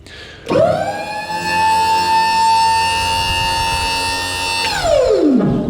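The heavy-duty hydraulic ram on a Chapman DT100 ATV/UTV tipping dump trailer raises the body with a loud, sustained pump whine that rises in pitch, holds steady for several seconds, then winds down.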